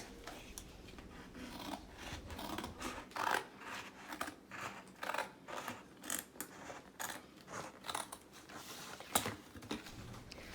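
Scissors snip through a cardboard Cocoa Krispies cereal box as rectangles are cut out, a run of crisp, irregular crunching cuts with short pauses, close and fairly quiet, with no talking.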